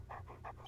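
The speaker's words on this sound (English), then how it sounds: "even my dog doesn't like you being here. You hear him?" A dog pants in quick, soft, rhythmic breaths in the video game Phoenix Wright: Ace Attorney, heard close against a steady low background hum.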